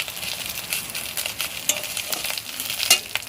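Eggs fry in a pan, giving off a continuous close sizzle broken by irregular spatula scrapes and clinks, with no talking.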